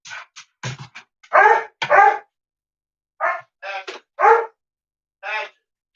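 A dog gives a series of short, loud, close barks and yelps in irregular bursts, with pauses of silence between them.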